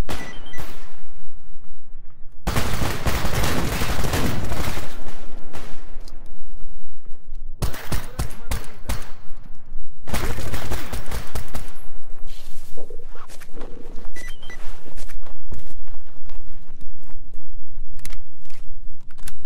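Pistol shots crack out in S.T.A.L.K.E.R. GAMMA, rapid clusters of sharp reports separated by quieter stretches, fairly close and loud.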